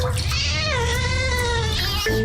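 A cat meows in a long, drawn-out wailing yowl as it resists being washed near water, close and loud, ending with a short extra cry.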